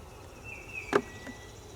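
Honeybees in a beehive nuc frame give a faint, soft buzzing hum, with one brief louder burst from a bee passing close.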